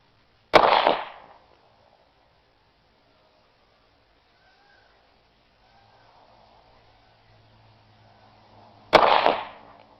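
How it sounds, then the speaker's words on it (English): Two sharp Glock pistol shots about eight seconds apart, each a loud crack with a short decay, with near silence and a faint hum between them. "A firearm is loud."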